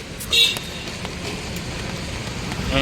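Morning rain falling outdoors on farmland and pattering on a vehicle bonnet, a steady, even wash of hiss lasting throughout, with a brief louder swell near the start.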